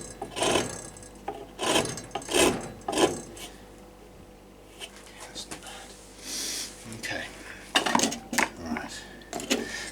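Sandpaper wrapped around a round file rasps against a wooden bow tip in repeated short strokes, close and fairly loud, with a pause midway, while a person talks at times.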